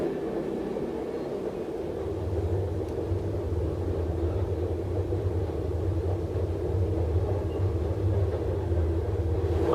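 Train passing a railway crossing at night while a car waits stopped nearby; a steady, loud, low rumble that holds for the whole stretch, with no voices.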